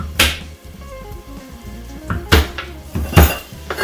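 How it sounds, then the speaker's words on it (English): Three garlic cloves are crushed under the flat of a knife blade on a board, giving a few sharp, loud thumps and clacks with a short pause between them. "I got 3 pegs of garlic right here. I'm gonna take the flat of my knife and smash them."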